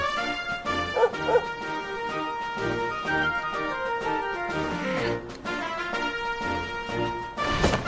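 A dog barks in the video game Dragon Quest XI, a few short barks near the start set against loud, continuous orchestral game music that stays on top throughout.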